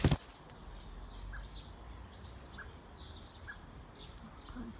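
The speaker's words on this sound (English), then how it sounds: "Oh, there's a baby bird." A baby bird gives a few faint, brief chirps, widely spaced over a quiet outdoor background with low rumbling noise. A short bump is heard at the very start.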